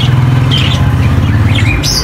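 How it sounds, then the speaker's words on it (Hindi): Parrots in a shop chatter and chirp loudly and close by, with overlapping squawks and tweets over a steady low background hum. "ये सारे तोते लगे हैं,"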